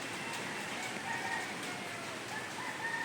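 A rooster crows and chickens cluck faintly, half buried under a steady, even hiss that lasts the whole short stretch.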